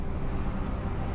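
A farm tractor in GTA5 pulls away with a steady, low, rumbling engine drone that stays loud and even throughout, with no voices.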